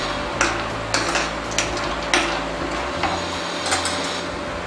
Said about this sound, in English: all the dry nuts in this pan. And stir it continuously.